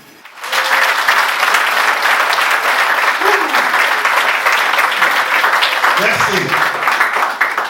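Loud, sustained audience applause at a union symposium of the CGSA, dense clapping rising quickly and continuing steadily, with a brief voice speaking over it.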